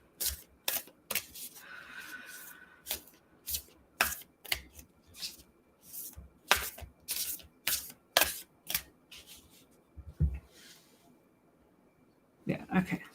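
A deck of tarot cards is shuffled by hand during a live tarot reading, giving a run of sharp, irregular riffling snaps and soft card slaps with quiet pauses between them, close to the listener.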